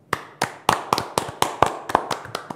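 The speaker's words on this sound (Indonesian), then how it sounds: "Tepuk tangan dong" Hand clapping during a podcast recording, a few sharp close claps in a loose irregular rhythm, loud and dry with no talk over them.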